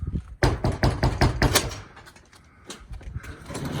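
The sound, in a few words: knocking on a door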